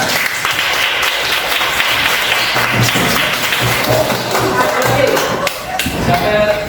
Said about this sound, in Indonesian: Oke, silakan duduk, beri tepuk tangan.